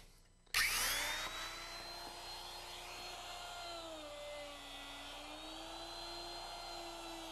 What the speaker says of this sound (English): let me route it out here